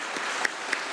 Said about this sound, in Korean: 한번 뜨거운 박수로 격려해 주시기 바랍니다.